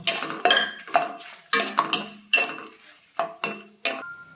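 Peanuts and urad dal stirred in a pan for Tamil Nadu style puliyogare, a spoon scraping and clinking against the metal in about nine quick, close, irregular strokes with no talk.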